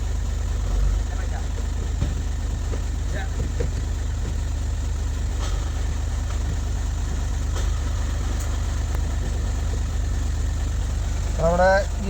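A 2007 Skoda Fabia TDI diesel engine idles after starting, a constant low drone with slight vibration that stays even for about twelve seconds, with a brief voice near the end.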